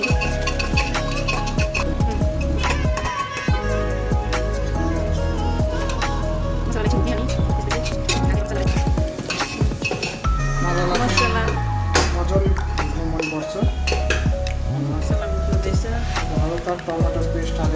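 Onions stirred in a pan for homemade biryani, with a spoon scraping and clinking against the metal over a steady frying sizzle, repeated stirring strokes running throughout while a person talks.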